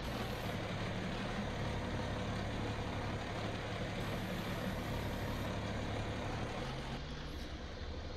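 A John Deere 4440 loader tractor idles steadily in Farming Simulator 19, a continuous low diesel rumble with a faint steady hum that holds without change for the whole span, close and alone with no talk.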